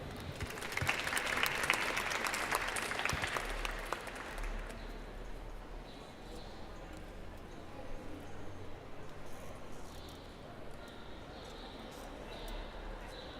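Audience applause welcoming performers at a poetry reading: a burst of dense clapping for about four seconds that quickly fades to sparse claps and a quiet room.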